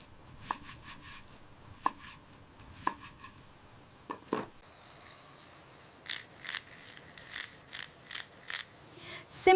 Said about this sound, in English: Để nấu thịt ngon, phải cắt thành từng miếng đều.